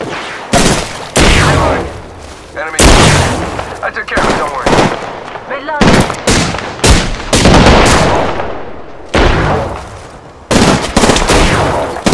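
Gunfire in the battle royale shooter Apex Legends: loud, close bursts of rapid automatic shots come in repeated volleys with brief gaps between them, and character voices talk over parts of the firefight.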